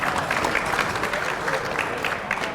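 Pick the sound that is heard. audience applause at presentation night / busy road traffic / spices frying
audience applause at presentation night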